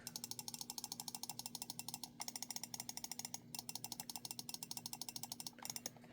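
Rapid, steady clicks of a Razer Viper V4 Pro gaming mouse button, loud and close, with a bright metallic ping to each click and a couple of brief pauses.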